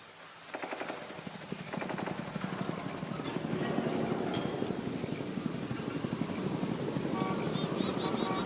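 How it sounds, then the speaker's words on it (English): Distant ambient helicopter in the video game Warframe 1999, a steady low rotor rumble with rapid chopping pulses that holds at moderate level throughout, with no talk over it. "this is what the distant ambient helicopter sounds like in Warframe 1999."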